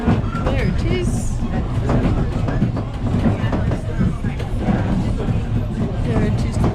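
A Ffestiniog Railway train rolls past on its narrow-gauge line, a loud, steady rumble with rhythmic clattering of wheels on the track that carries on throughout, heard close from on board.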